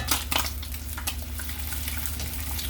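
Bacon frying in a pan, a continuous close sizzle with a couple of sharper crackles and clatters near the start as it is handled, no talking.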